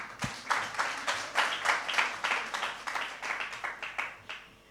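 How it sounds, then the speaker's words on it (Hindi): Audience applause at a Hindi youth recitation event in the UK, a steady crowd of hands clapping in rhythmic surges, moderately loud and fairly close, with no talk over it. "कृपया तालियां हो जाएं।"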